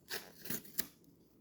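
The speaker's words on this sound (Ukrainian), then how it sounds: "Але щоб відкрити цей, нам знадобиться ножиці." Scissors cutting open a paper packet, three quick faint snips close by, with no talk.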